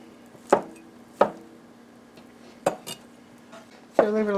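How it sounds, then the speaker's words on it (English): A cleaver makes rough cuts through chicken salad ingredients on a board: four sharp, loud chops spaced unevenly over a few seconds, each with a brief ringing tail, the last one followed by a clatter. "I'm going to use my cleaver this morning just to get everything chopped quickly"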